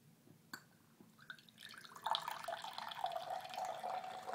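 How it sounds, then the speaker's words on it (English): Beer pouring from a keg through an open solenoid valve, a faint, thin stream of liquid that starts after a couple of soft clicks and runs steadily to the end. "I'm going to pour some beer."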